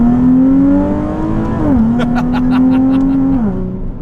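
A Nissan 370Z with stock exhaust and test pipes pulls hard, engine note climbing steadily, dropping briefly at a gear change, then climbing again before another shift, loud and close with faint clicks layered on top.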